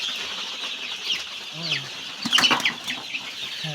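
Soft clucking and chirping from 13-day-old Sonali chicks close by, over a steady background hiss with a few rustling sounds.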